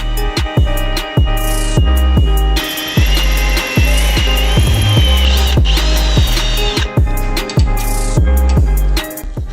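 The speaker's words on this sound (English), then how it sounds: "I'm gonna start drilling my first hole using this." A power drill bores a hole for fitting an oil catch can on a 600 hp Nissan 240SX, the motor whirring loudly and steadily in repeated bursts with sharp clicks and a rising whine partway through, with no talking.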